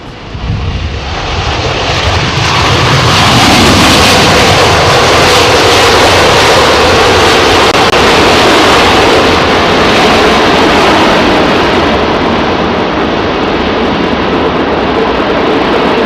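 Airliner arriving at London Heathrow Airport in windy conditions, with a loud, close, broadband engine roar and wind rush that swells within seconds and holds steady throughout, with no voices.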